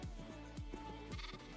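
Several sheep in the Minecraft video game bleat in short repeated calls, close and clear, one after another with brief gaps and no talking.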